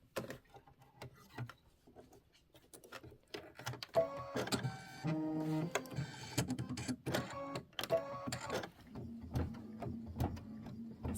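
An embroidery-style sewing machine stitching a heart detail on a small February mini quilt, rapid mechanical needle clatter with rhythmic whirring bursts that rise and fall, close and fairly quiet.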